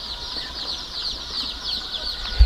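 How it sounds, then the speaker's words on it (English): Thousands of day-old chicks chirping inside a tarpaulin-enclosed brooding house, a dense continuous chorus of high peeps from a large flock, heard steadily throughout without talk. "Yeah, that's the sound of birds that are being brooded."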